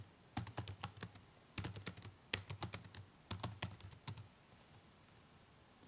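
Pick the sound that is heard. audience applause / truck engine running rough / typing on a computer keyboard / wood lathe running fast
typing on a computer keyboard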